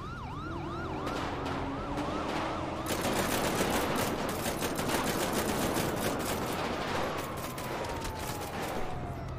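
Dense rapid gunfire in a GTA 5 roleplay ambush fills the scene with continuous crackling shots, while a wailing police siren cycles loudly at first and then fades into the barrage.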